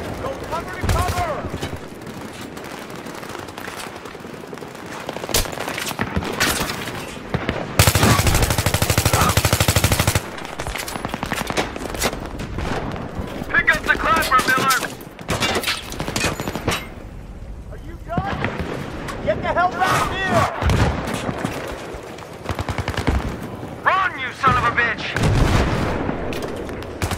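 Battlefield 3 combat gunfire: sustained machine-gun bursts and heavy rattling volleys with booming blasts, loud and dense, broken by brief lulls, with soldiers shouting over the fire.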